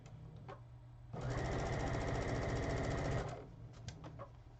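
Sewing machine stitching a quilt seam: a steady, fast mechanical whirr with rapid needle chatter that runs for about two seconds, close and clear, with quieter handling sounds before and after.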